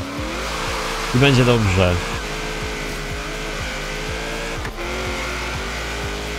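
A Camaro SS races in the rain in Forza Horizon 3, its engine revving up and down steadily with quick rhythmic gear shifts, under someone talking briefly.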